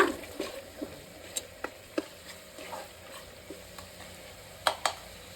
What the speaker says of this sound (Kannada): ಇವಾಗ ಇದು ಕಲರ್ ಚೇಂಜ್ ಆಗೋ ತನಕನೂ ರೋಸ್ಟ್ ಮಾಡ್ಕೋಬೇಕು ಮಧ್ಯದಲ್ಲಿ ಒಂದ್ ಎರಡ್ ಮೂರು ಸಲ ತಿರುಗಿಸ್ಕೊಳ್ಳೋಣ